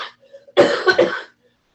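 A short burst of coughing, a couple of harsh rough coughs close to the microphone, preceded by a faint breathy sound.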